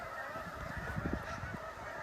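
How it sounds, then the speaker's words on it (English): A flock of geese honking over a snowy landscape, a loose cluster of calls rising near the middle, moderately distant above a steady background rush. "here comes all the geese"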